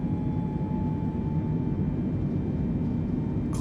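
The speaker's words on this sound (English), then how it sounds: "Picking up some more speed now while accelerating on the runway." Boeing 747-8 airliner accelerating down the runway at Sydney Kingsford Smith airport, a steady low cabin rumble with a faint whine, even and continuous from start to finish.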